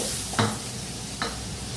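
Potato and carrot pieces fry in a pan as the base for veg noodles, giving a steady low hiss broken by two brief scraping stir sounds.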